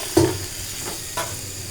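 Bottle gourd being stirred into hot oil with spices in a pan, a soft sizzling hiss broken by two brief scraping stirs of the spoon against the pan.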